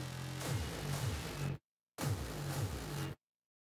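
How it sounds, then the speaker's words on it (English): Harsh, distorted synth bursts through Metasonix pedals with a gritty buzz and wobbling low tones, two phrases separated by a short silence. "send your signal through your Metasonix 2 pedals and mess around with the knobs a bit"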